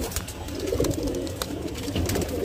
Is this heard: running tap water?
no